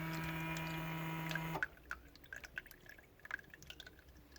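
Homemade automatic water fountain for dogs, cats and rabbits: a steady pump hum cuts off, then faint water trickling and dripping into the basin follows, quiet and close, with no voices.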